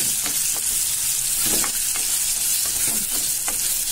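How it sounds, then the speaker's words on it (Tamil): Onions frying in oil in a pan for a Tamil pepper curry with chilli powder, a steady broadband sizzle with occasional stirring clinks and scrapes, close and continuous without talk. "வெங்காயம் வதங்கட்டும்"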